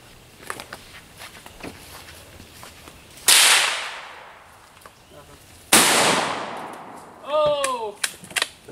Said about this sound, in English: we're going to shoot the mouse some more